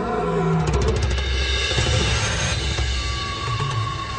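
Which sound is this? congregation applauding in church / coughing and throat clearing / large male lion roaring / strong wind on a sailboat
large male lion roaring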